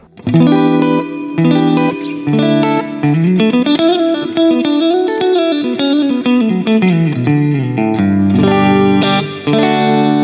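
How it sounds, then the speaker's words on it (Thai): Electric guitar on a Fender American Professional II with a DiMarzio DP180 pickup, played with a clean tone and added reverb, giving a loud, continuous, ringing melodic line with sustained notes. "ลองเติมรีเวิร์บมาก่อน"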